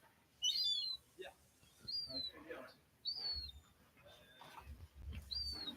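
Birds chirp and whistle in short, high, clear calls repeated every second or so, close by, with some background rustling and faint talk mixed in.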